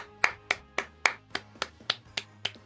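A crowd-free round of hand clapping, about ten sharp claps at a steady, slightly slowing rhythm, close and moderately loud with nothing else over them.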